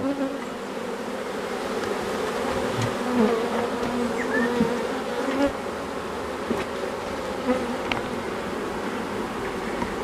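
A honeybee colony drones steadily at an open hive, a dense continuous buzz with individual bees passing close now and then, no speech.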